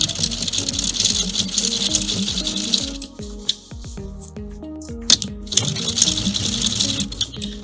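A sewing machine straight-stitches a pant hem, its needle clattering in a steady close rattle that pauses briefly midway, then resumes.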